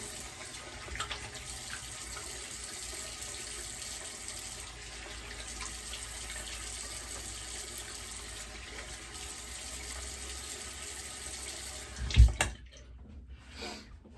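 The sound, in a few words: water running from a tap, switched to cold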